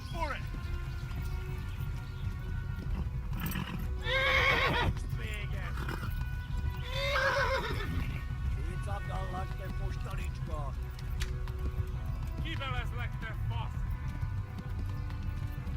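A horse in the video game Kingdom Come: Deliverance whinnies loudly several times over a steady rumble of galloping hooves, with a person talking now and then.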